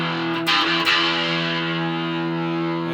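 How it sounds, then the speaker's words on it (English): An electric guitar played through an amplifier on a crunch tone rings out as a sustained, distorted chord, loud and close, with a couple of brief picked accents near the start. "Now I will switch over the amp into a crunch tone."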